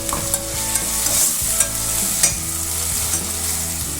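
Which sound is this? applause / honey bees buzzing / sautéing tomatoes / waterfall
sautéing tomatoes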